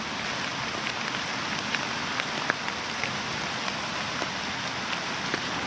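Heavy rain pours down outdoors, a dense, loud, continuous hiss with scattered sharper drops pattering close by, steady throughout and without any voices.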